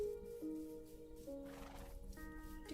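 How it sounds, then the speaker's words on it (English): A horse in a Minecraft-style game whinnies, with clip-clop hoofbeats under the tonal neigh, steady and fairly quiet throughout, with background game music-like tones. "you're not Camel, you're a weird horse"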